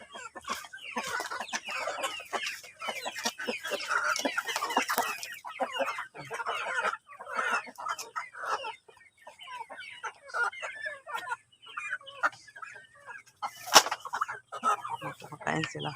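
Flock of hens clucking busily while being fed, dense overlapping clucks and calls, fairly close, with a sharp louder squawk near the end.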